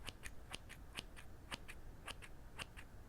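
Scissors snip hair during an ASMR haircut, a dozen or so short crisp metallic clicks in an uneven rhythm, close and quiet with no talk.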